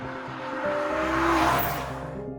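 A Ferrari 296 GTB's engine note rises in pitch and swells in loudness, then eases slightly, heard close and continuous with no voices.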